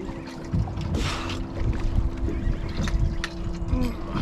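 A fishing boat's outboard engine hums steadily on the water with a constant low tone, mixed with wind buffeting, splashes and line or reel noises, fairly close and moderately loud.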